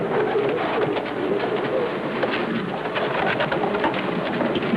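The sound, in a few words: pigeon cooing in an experiment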